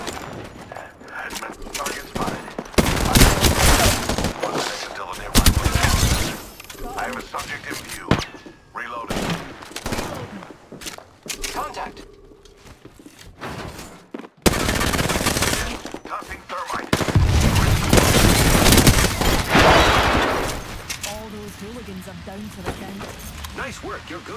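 Video game gunfire in a battle royale style match: repeated loud bursts of automatic fire and single shots throughout, mixed with game voice callouts and a player talking over the action.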